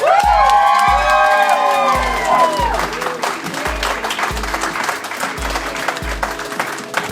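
Audience at a Tulsa event claps and cheers loudly and steadily for an attorney being introduced, with scattered whoops over dense applause that carries on with music-like tones underneath.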